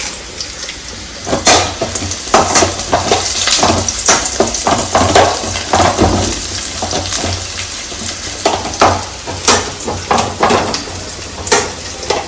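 Curry leaves crackle and sizzle in a hot pan of oil as a Kerala home-style dish cooks, with loud bursts of spattering and stirring scrapes that recur steadily over the frying.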